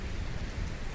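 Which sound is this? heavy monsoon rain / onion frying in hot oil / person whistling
heavy monsoon rain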